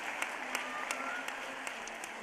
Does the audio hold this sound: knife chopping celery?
no